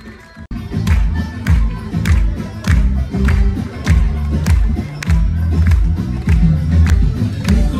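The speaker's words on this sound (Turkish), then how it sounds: "Bütün katılımcılarına kuvvetli bir alkış gelsin şöyle." A crowd at an outdoor event in the sun with Gaziantep food claps loudly in rhythmic, sustained applause, with some cheering mixed in.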